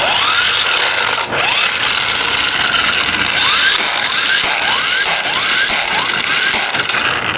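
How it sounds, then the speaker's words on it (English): An impact wrench hammers a 70mm flywheel nut on a Chinese scooter, with repeated loud rattling bursts, each ending in a rising whine, close up and with no talk. "Now tie the 70mm nut with an impact wrench, okay?"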